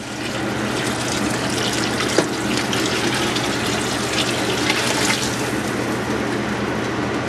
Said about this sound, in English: now we are going to start the water in. As I say, this is a gallon to start.